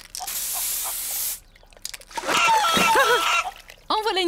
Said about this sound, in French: j'ai même trouvé un diffuseur de parfum gaz d'échappement au chip shop